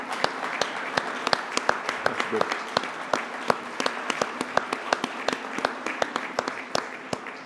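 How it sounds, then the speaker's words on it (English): Scattered applause from conference attendees acknowledging sponsors, with distinct individual claps sounding close and sharp over a softer wash of clapping, while a few voices talk briefly underneath. "please stand up so we can acknowledge you and give you a round of applause"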